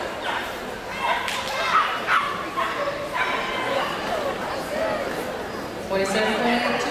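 Parson Russell Terrier barking at an agility competition, a few sharp yips over steady crowd noise and an ongoing commentator's voice.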